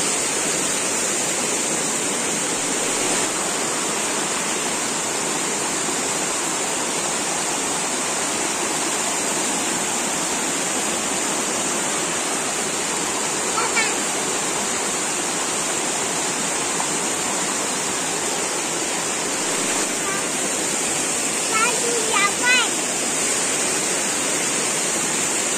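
A small waterfall at Kulagar pours in full flow, a constant, close rushing roar of falling water that holds steady throughout, with only faint hints of birdsong above it.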